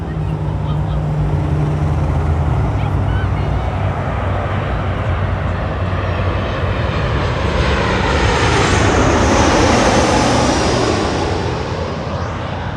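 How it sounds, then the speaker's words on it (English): A Southwest Airlines airliner lands at Los Angeles International Airport, a loud sustained jet roar that swells and sweeps past, dominating throughout. "Nice landing there for Southwest Airways"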